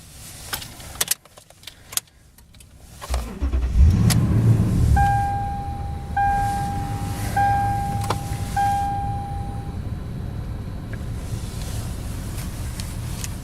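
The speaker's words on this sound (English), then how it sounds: "first thing we're going to do is we're going to go ahead and start the truck up." A 2007 Toyota Tundra SR5 V8 pickup truck starts up: a few clicks and key jangles, then a cranking catch around four seconds settling into a steady, close idle rumble with a faint repeating chime above it.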